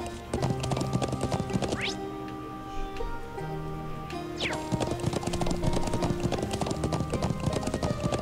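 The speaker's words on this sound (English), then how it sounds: "No, that's the horse." Horse hooves clip-clop steadily in the Trails of Cold Steel video game, a dense rhythmic clatter of many quick strikes, loud and continuous over background game music.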